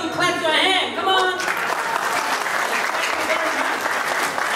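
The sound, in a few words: audience clapping hands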